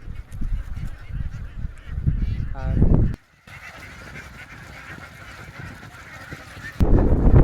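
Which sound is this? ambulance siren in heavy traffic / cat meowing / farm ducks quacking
farm ducks quacking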